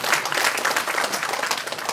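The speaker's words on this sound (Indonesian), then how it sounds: "Beri tepuk tangan buat Tuhan." A church congregation at a worship service claps in dense, lively applause, a short burst of many hands at close range with no voices over it.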